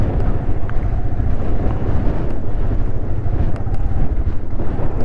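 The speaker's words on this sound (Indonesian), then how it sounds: "Wow, anginnya gede, Bro." Strong wind buffets the microphone at Karangbolong beach in Pacitan, a loud, continuous low roar and rumble filling the whole clip with no speech.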